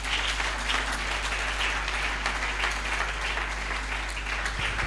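A church congregation applauding and cheering to acclaim the Lord, steady sustained clapping from many hands filling the room throughout, over a low constant hum.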